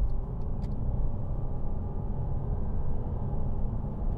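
2009 Mercedes-Benz E350 diesel engine while driving, a low steady rumble of engine and road noise heard from inside the car, with a few faint ticks near the start.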